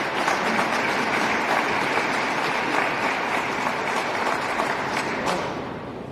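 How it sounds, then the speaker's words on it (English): Sustained crowd applause at a Massachusetts National Guard 389th birthday celebration, dense steady clapping throughout that thins slightly near the end, with no talking over it. "You should clap"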